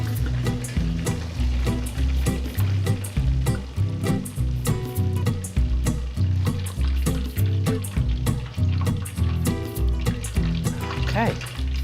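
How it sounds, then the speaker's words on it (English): Shrimp being deep-fried for crispy fried shrimp, oil bubbling and crackling loudly and continuously up close, with low background music or hum running underneath. "And we have these now to fry."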